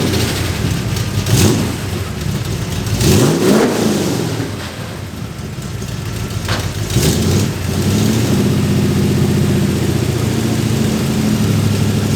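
An engine revs up and down in several loud, rising and falling surges as its carburetor jetting is tested, close by with steady background roar between pulls.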